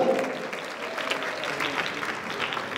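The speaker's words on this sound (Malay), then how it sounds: "Tepukan untuk Cikgu Safwan." An audience at the Malaysia Teacher Prize 2023 award ceremony applauds teacher Cikgu Safwan with a steady, even wash of clapping throughout.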